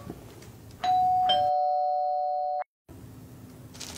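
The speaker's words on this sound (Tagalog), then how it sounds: "mag-doorbell ka na lang dyan" An electronic doorbell rings close by in a single sustained two-tone buzz lasting close to two seconds, then cuts to a brief silence with quiet room noise around it.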